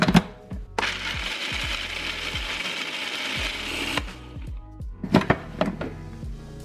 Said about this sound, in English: it's time to add half of the almonds that I just toasted into the food processor and finely grind them